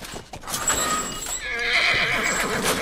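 A horse gives a loud, close whinny with a rising, quavering neigh, mixed with clip-clop hoof sounds and faint background noise.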